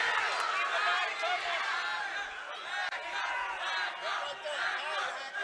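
Crowd of fans cheering and yelling at a Hardrock MMA amateur title fight, a dense sustained roar of many voices with shouts rising and falling, loud and continuous throughout.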